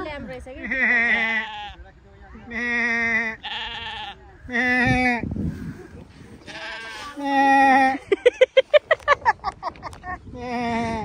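A young goat or lamb on a farm where strawberries are grown bleats repeatedly for its mother, its calls loud and close, alternating with people chatting nearby and ending in a quick run of rhythmic bleats.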